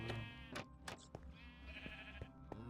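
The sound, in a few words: sheep bleating in Minecraft video game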